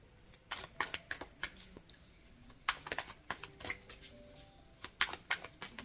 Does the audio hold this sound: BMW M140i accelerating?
no